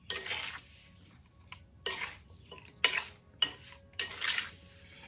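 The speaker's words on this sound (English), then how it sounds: "I'm going to give this a quick stir until it's well incorporated" A spoon stirs fresh strawberries with lemon juice and strawberry extract in a bowl, giving several short scraping, clinking bursts against the dish with quiet pauses between them, close and fairly soft.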